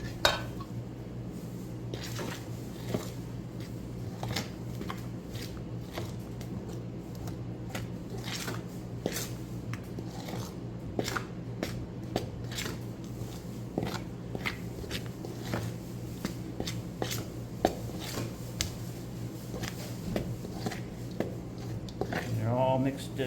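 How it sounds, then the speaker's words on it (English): Wet ingredients folded into dry for a thick blackberry coffee cake batter: a spoon scrapes and taps against a bowl in an irregular stream of soft knocks, with a low hum underneath and occasional talking. "So we're going to fold in the wet ingredients to the dry ingredients."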